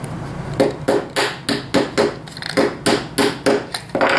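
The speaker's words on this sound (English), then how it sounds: "I'm going to hammer the other wheel gently onto the axle" Repeated hammer taps drive a wheel onto the axle of a mousetrap car, about a dozen sharp, fairly loud knocks in a quick steady rhythm with no talking.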